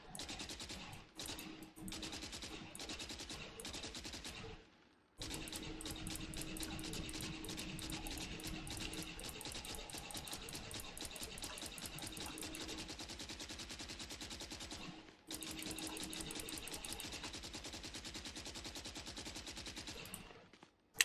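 A fully automatic gun in Valorant firing about eleven rounds a second, rapid rattling bursts that run several seconds each with brief pauses between them, loud and alone.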